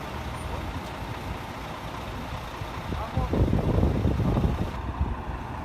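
A truck maneuvers at a garage ramp entrance in Solin, its engine a steady broadband rumble that swells louder midway, with wind and faint voices in the background.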